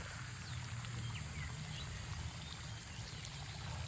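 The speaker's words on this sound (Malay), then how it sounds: "Ni kolam air panas mengalir saja tu" Hot spring water running steadily through a pool at a forest campsite, a continuous watery rush and trickle with low rumble, fairly even throughout and no talking.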